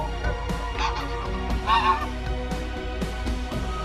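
A flock of geese honks in several loud, close calls over a steady background hum, with other noise underneath.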